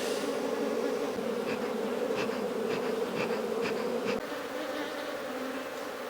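A swarm of honeybees being coaxed into a hive with smoke gives a dense, steady buzz that hums continuously without pause, close by and with no voices over it.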